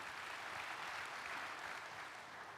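A church congregation applauds during an online worship service, a dense, steady wash of many hands clapping together for the whole stretch at a moderate, even level.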